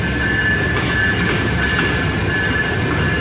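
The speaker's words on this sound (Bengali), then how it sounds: "বনলতা এক্সপ্রেস ৬৬-৩২ নম্বর লোকোমোটিভ নিয়ে কমলাপুর রেলওয়ে স্টেশনের ৫ নম্বর প্ল্যাটফর্মে প্রবেশ করতেছে।" Banalata Express intercity train hauled by locomotive 6632 rolls into platform 5 at Kamlapur railway station, a loud, close, continuous rumble of wheels on rails with a faint high squeal running through it.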